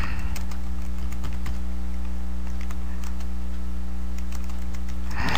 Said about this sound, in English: Your chart title, you can just type in the title.